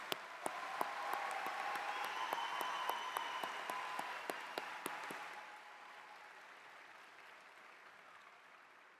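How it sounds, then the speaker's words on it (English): Graduation audience at a Seminole State College ceremony applauding in a sustained round, steady clapping with a few sharper claps standing out, fading gradually toward the end. "warm round of applause."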